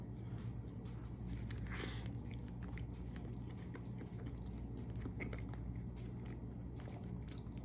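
Chewing and biting into a burger on a sesame seed bun cooked on a Blackstone griddle outdoors in summer, with close, moist crunching bites repeating over a steady low background hum.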